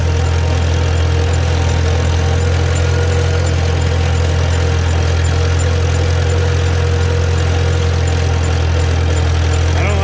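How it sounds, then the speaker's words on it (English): A Farmall B tractor engine runs continuously while cultivating, with a low droning rumble and a faint scraping drag of a brake underneath, no voices. "you can hear that brake dragging"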